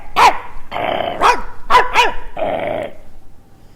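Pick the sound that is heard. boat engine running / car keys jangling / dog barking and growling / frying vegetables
dog barking and growling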